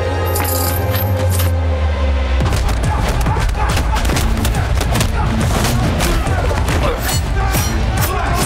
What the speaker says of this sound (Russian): Целься и стреляй.